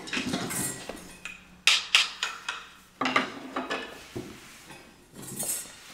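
Wooden cooking spoons bang on kitchen pots in a series of distinct metallic knocks and clinks, some grouped in quick rhythmic runs with short pauses between, close and moderately loud.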